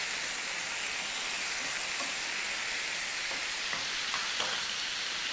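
Soy sauce and chili sauce sizzle in a hot frying pan, giving a steady, even hiss of frying with a few faint pops and crackles and no talking.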